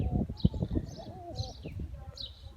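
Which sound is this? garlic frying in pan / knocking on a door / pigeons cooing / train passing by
pigeons cooing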